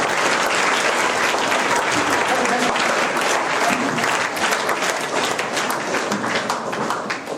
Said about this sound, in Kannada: ಆ ಎಲ್ಲ ಒಳ್ಳೆ ಮನಸ್ಸುಗಳಿಗೆ ಮತ್ತೊಮ್ಮೆ ಜೋರಾಗಿ ಚಪ್ಪಾಳೆ ಮಾಡಿ ಅಭಿನಂದನೆಗಳನ್ನ ಹೇಳೋಣ